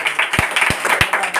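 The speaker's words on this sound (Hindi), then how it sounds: "एक जोरदार ताली मार दीजिए" A classroom audience at a Sunday special class gives a short burst of applause, with three sharp loud claps standing out above the scattered clapping.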